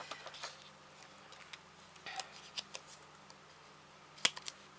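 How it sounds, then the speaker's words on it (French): Small scissors snipping through a sheet of paper embellishments, a few quiet scattered cuts with one sharper snip near the end, faint and close, with no talking. "mon ciseau ne veut plus couper"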